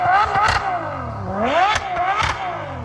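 Naturally aspirated V12 engine revving up and down in close succession, sharp rising and falling pitch sweeps with clattering bursts, loud and near.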